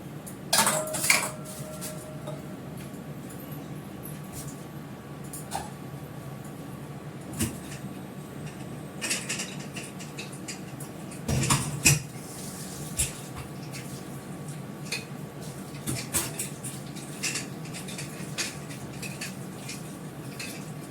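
Dishes and utensils being rinsed and washed at a home kitchen sink in the morning, giving scattered light clinks and clatters over a steady background hiss, with a few sharper knocks.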